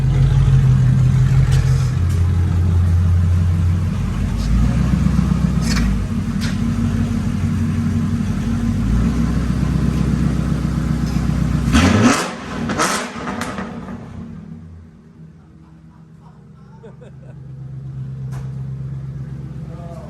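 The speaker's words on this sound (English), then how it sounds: "There's only one way to find out though with the burnout." A used police car held in a burnout, engine revving loud and steady for about twelve seconds before dropping off sharply, then settling into a lower rumbling idle that slowly swells again.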